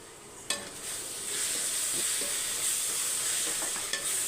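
Tomato thokku frying in oil in a pan gives a steady, close sizzle and hiss throughout, with a couple of brief clinks of a utensil against the pan.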